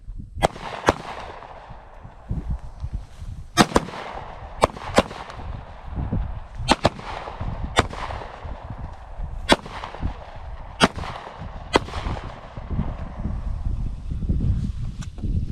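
Pistols fire at an outdoor shooting range during a basic pistol class, with about a dozen loud, sharp cracks at uneven intervals, some in quick pairs, over steady wind noise.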